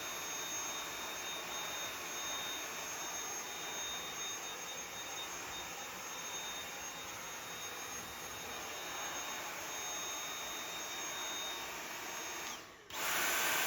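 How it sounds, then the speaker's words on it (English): A Dyson vacuum cleaner runs steadily with a loud, constant high-pitched whine and broad airflow roar, unbroken for the whole stretch before a brief dip near the end. "This Dyson vacuum cleaner has literally made my life easy."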